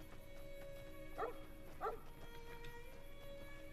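A dog in the Fallout: New Vegas video game gives two short, faint barks about a second apart over a low steady game hum and ambience.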